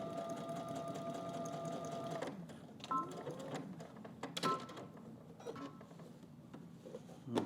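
A domestic sewing machine stitches close to a garment seam, humming in a steady run for about two seconds, then giving way to softer clicks, fabric handling and scattered knocks.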